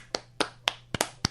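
Six slow, deliberate hand claps spaced about a quarter second apart, crisp and fairly close but quiet, with no talking over them.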